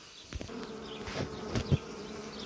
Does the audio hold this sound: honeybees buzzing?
yes